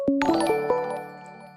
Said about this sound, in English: It's not ringing.